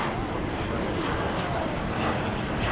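An American Airlines Boeing 737-800 lands at night at DFW after a flight from Albuquerque, its engine roar broad and steady throughout, fairly near and unbroken, with no voices over it.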